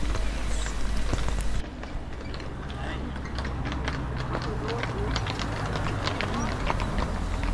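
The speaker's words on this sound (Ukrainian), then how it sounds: "Хтось замовив свою поїздку на конях по трускавцю." Steady clip-clop of horse hooves on pavement during a horse-drawn ride in Truskavets, Ukraine, a quick repeating rhythm close by, with street noise and faint voices in the background.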